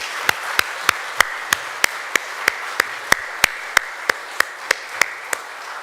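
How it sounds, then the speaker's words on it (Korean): A church congregation claps hard in steady unison, about eighteen sharp, evenly spaced claps over a low background hum, with no talk. "우리 이제 박수로 한번 박수 치는데 좀 세게 쳤으면 좋겠어요"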